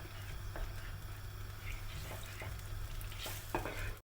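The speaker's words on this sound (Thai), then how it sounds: "คนทุกอย่างให้ละลายเข้ากันดีเลยนะคะ" A honey and soy sauce mixture with water for grilled saba fish is stirred in a pan, giving a steady close sizzling, bubbling wash with a few soft utensil knocks against the pan.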